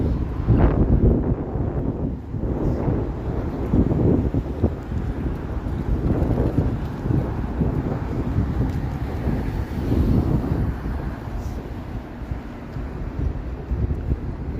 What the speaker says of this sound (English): Yeah, the wind is bonkers.